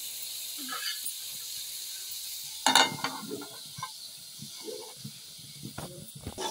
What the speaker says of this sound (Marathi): हे बघ फोडणी दिली आता ती वाफेन ओतली